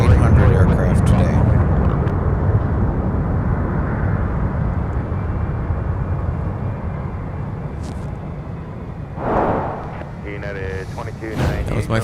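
An American Airlines Boeing 737-800 arrives from Chicago O'Hare at Minneapolis–Saint Paul airport. Loud, broad jet roar fills the whole stretch and fades slowly toward the end, with brief faint noises near the close.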